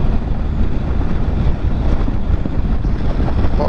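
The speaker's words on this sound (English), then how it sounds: "It's the wind, there's no escape, there's nothing, nowhere to hide." Strong wind blows across open, exposed ground with no shelter. It makes a loud, constant roar that buffets the microphone and carries no talk.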